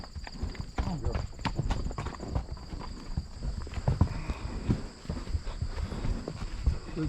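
Several horses walking a trail, their hooves clopping in an uneven, continuous rhythm up close while a rider speaks encouragingly over them.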